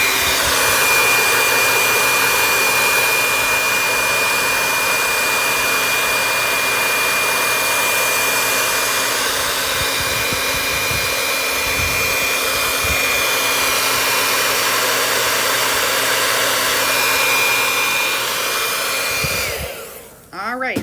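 A blow dryer runs continuously on a painted wooden football door sign, a loud, steady airy whoosh with a faint whine that holds for about twenty seconds before switching off at the end.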